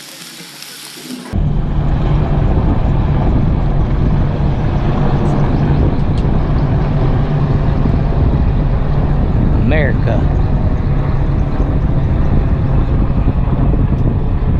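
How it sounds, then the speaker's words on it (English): An AH-64 Apache helicopter drones loudly and steadily overhead with a constant low hum and broad rotor noise; a brief voice is heard amid it. "Apache helicopter."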